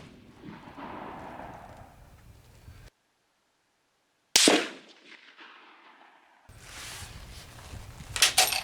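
A rifle shot at an outdoor shooting range, one sharp loud crack at about 4.4 s with a short ringing decay, framed by quiet outdoor background and a cut to silence before it.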